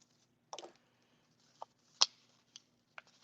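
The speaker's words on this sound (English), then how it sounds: "I'm going to go ahead and write one on here." A pen writes a number on paper in a quiet room. It makes a few faint, sparse scratches and taps spread over a few seconds, with near-silence between them.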